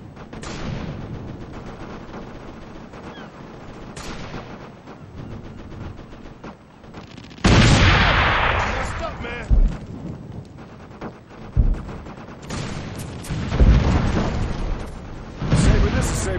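Artillery fire mission in the Operation Flashpoint video game on Xbox 360: heavy rumbling booms and blasts pound over a noisy battle bed, loudest in several close impacts.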